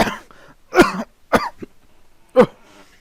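A person coughing in several sharp, separate bursts, close and fairly loud, with quiet gaps between them.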